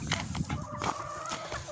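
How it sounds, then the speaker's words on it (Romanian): Backyard chickens cluck softly nearby in a short burst of a few quiet, uneven calls, faint and alone. "Uitați, o găină."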